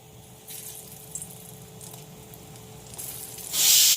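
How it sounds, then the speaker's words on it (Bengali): Mustard oil sizzling in a pan with pieces frying in it, a moderate hiss that swells to a loud, bright burst near the end. "সর্ষের তেল দিয়ে ভাজবো।"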